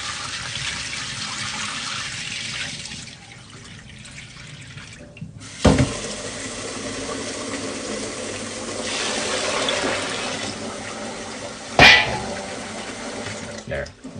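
Rice rinsed under a running kitchen faucet, water splashing steadily into a sink with two sharper clatters, while a person talks intermittently over the flow.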